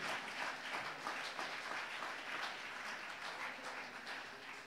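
A church congregation claps in praise during a worship service, a dense, steady wash of applause that stays even throughout.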